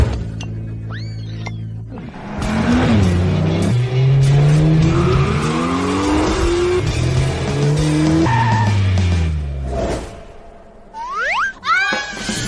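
A sports car skids with loud, sustained tire squeals and a revving engine, sliding pitches sweeping up and down for several seconds before trailing off into shorter screeches.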